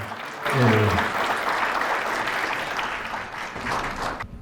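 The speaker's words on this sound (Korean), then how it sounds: "박수 좀 부탁드리겠습니다" An audience at a business forum claps in steady, sustained applause that swells quickly and carries on for several seconds, with a voice speaking briefly at the start.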